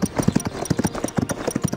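Horse hooves galloping in the Equestriad racing game, a quick uneven clip-clop rhythm of repeated hoof strikes at close range, steady and prominent with no talking.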